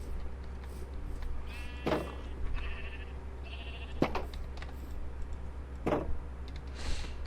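Sheep in a video game bleat in short, scattered calls over a steady low background hum, several brief bleats spread a second or two apart at moderate distance, with no talking.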